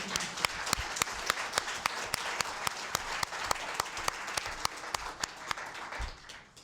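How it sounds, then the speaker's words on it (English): A round of applause for a speaker at a lake conservation group's meeting, a smaller audience clapping with sharp individual claps standing out over a soft steady patter, fairly quiet and stopping near the end. "let's give Mike a round of applause"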